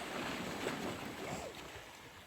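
Ocean waves wash against the shore at Elsie Bay at sunset, a steady broadband roar heard from high up on a rocky edge, with no talking.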